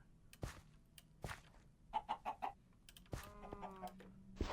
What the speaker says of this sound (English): There's a chicken in here somewhere.